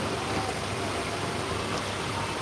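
Constant heavy rain pours down in New Delhi, India, in an even, broadband wash, loud and unvarying from start to finish.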